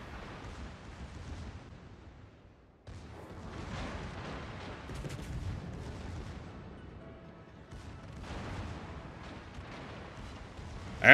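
Naval guns firing in World of Warships around a German cruiser, deep distant booms and rumbling salvos rolling in several waves with short lulls between them, ending in a sudden sharp blast.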